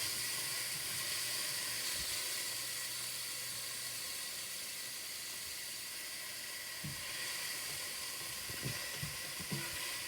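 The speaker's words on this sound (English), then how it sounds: "we have our onions cooking on medium heat" Onions cooking in a pan on medium heat for a chicken taco soup, giving a soft, steady sizzling hiss, faint and continuous, with a few light clinks toward the end.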